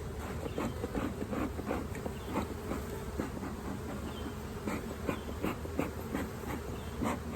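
Honeybees buzz around an open hive during an inspection, a steady dense drone with individual bees zipping close past the microphone, continuous and fairly soft.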